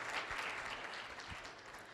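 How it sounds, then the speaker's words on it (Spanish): A church congregation gives sustained applause, with dense overlapping clapping filling the full two seconds at a moderate, fairly even level. "Denle fuerte aplauso al Señor."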